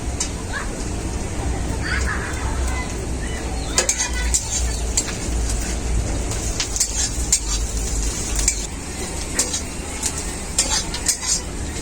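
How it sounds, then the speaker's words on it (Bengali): Garlic, ginger and onions frying in a pan for a pomfret fish dish, a steady close sizzle with occasional utensil clinks and stirring scrapes throughout, no talking. "আর রসুন হালকা করে ভেজে নিয়েছি পেঁয়াজের সাথে"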